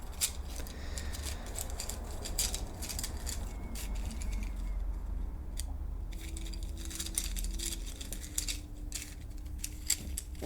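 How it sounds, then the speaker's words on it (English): Soft, continuous papery riffling and light clicks of tarot cards being shuffled close by, steady and quiet with no talking. "Let me shuffle until Spirit tells me to stop"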